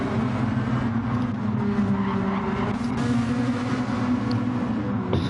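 Race cars in Gran Turismo 7 Gr.2 racing at Tsukuba, working through lap traffic: a steady, loud, layered engine drone with overlapping motors and shifting tones running the whole way, plus hints of tire noise, and no talking.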